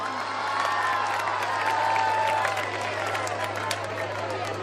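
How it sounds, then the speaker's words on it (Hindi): An audience at a Jawahar Navodaya Vidyalaya alumni gathering breaks into loud applause and cheering with shouts, a dense crowd noise that swells and then slowly eases, with voices mixed in. "जोरदार तालियां"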